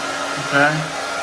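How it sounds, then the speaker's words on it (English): A hair dryer blows to dry the first coat of spackle on a bathroom drywall repair, a steady airy whoosh that swells briefly at mid-clip before settling back to a constant hum. "So we usually use hair dryers to make it dry faster."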